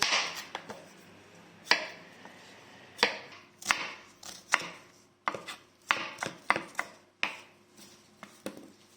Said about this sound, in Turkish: Öncelikle soğanlarımızı doğruyoruz.